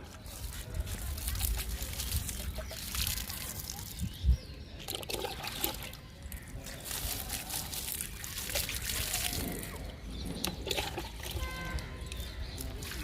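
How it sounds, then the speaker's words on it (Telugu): Soft trickling and splashing of water poured onto the soil of a newly planted Rhoeo plant, continuous and close, with faint background noise throughout. "రోహియో మొక్కకి వాటర్ ఇచ్చేద్దాము."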